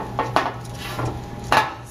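Roasted acorn squash halves flipped over on a metal baking pan, giving a few soft scraping and clanking knocks of utensil against pan spaced out over about two seconds, close and fairly quiet.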